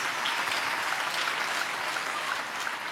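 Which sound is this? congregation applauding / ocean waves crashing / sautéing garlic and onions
congregation applauding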